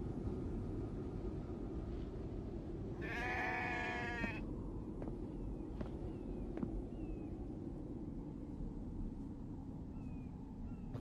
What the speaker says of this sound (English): Is it just me or were those sheep in stereo sound?